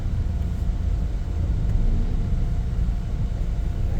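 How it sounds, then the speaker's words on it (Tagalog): Steady low road rumble and engine drone heard from inside a car stuck in slow, heavy traffic on a Santolan road trip, continuous and moderately loud with no talking. "Traffic talaga."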